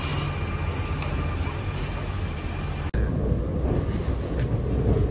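A train running, heard as a steady, loud rumbling roar that continues throughout with only a momentary break, and no voices.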